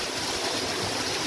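A stream runs steadily at a hidden waterfall oasis, a dense, close, continuous rush of flowing water with no voices.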